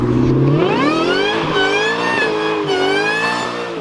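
A supercharged Corvette C7 Z06 engine revs up loud and close, its pitch climbing and wavering through sustained acceleration with a rich harmonic whine, with no talking.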